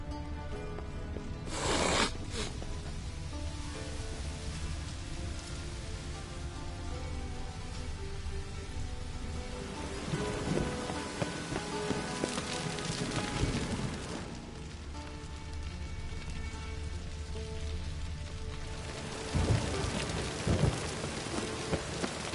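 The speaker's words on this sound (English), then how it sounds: "A storm, damn it." A storm with steady rain pouring on a surface throughout, broken by thunder-like rumbles and cracks, loudest near the start, in the middle and toward the end, with no speech.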